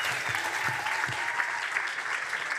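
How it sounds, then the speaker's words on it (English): Audience at a startup pitch competition final applauding after a pitch, continuous even crowd clapping at moderate distance with no break. "People are clapping."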